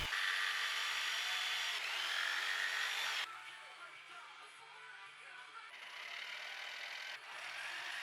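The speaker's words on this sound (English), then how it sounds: "Then I use my jigsaw to cut the little tabs, and just like that, I have perfectly square openings." Jigsaw cutting small tabs in wood, a high whining power-tool buzz that runs loud for about three seconds, then drops to a quieter, rougher cutting drone for the rest of the stretch.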